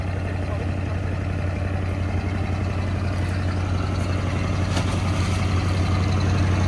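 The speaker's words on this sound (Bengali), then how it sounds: "দেখুন বন্ধুরা আমাদের নদী দিয়ে কত বড় বড় জাহাজ চলাচল করে" A large boat's engine on the Padma River drones steadily and loudly throughout, a low, constant rumble with no pauses.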